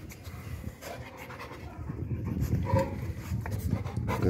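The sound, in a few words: dog panting while being fed kibble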